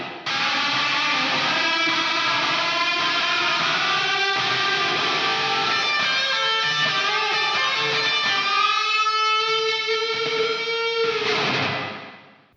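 An electric guitar played through a budget Sonicake reverb pedal set to heavy reverb rings out in sustained, washy chords and notes, loud and close, ending in a long fading tail.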